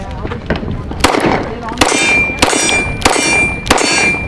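Springfield Armory XDs Mod2 .45 ACP pistol fired in a series of about six sharp, loud shots at a steady pace, each with a bright metallic ring, at a SHOT Show range.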